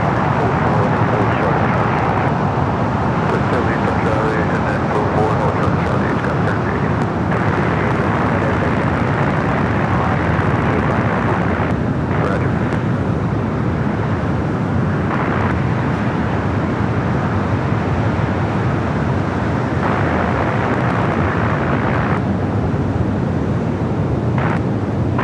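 Airbus A380 airliners taxi at night at Los Angeles LAX airport, a loud, steady jet engine roar and broadband rumble that holds for the whole stretch with slight swells in intensity.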